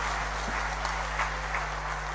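An audience claps for the chief minister at an official event in Rajasthan, a dense, even wash of applause over a low steady hum.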